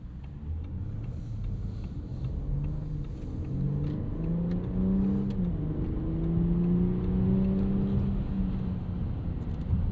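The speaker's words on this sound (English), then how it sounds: "Really nice even throttle input, smooth power and torque from the 3-liter single turbo V6." A 2025 Audi SQ5 with a 3-litre single-turbo V6 accelerating smoothly from inside the cabin, its engine note rising steadily in pitch over a soft road rumble.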